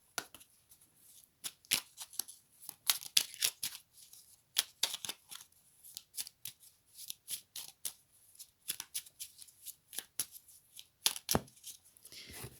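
Angel oracle cards shuffled by hand in a quiet room, a long run of quick papery riffles and rustling bursts, close and fairly soft, with no talking.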